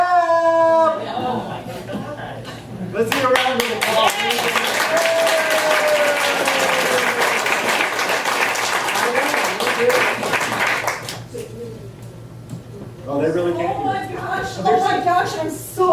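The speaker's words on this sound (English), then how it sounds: "Let's get a round of applause." A crowd at an improv comedy show breaks into sustained applause for several seconds, framed by people talking before and after the clapping.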